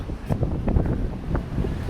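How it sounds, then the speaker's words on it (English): Low, rumbling wind buffets the microphone in uneven gusts on Quinpool Road in Halifax, with soft thumps and a steady roar throughout. "It's kind of windy down here."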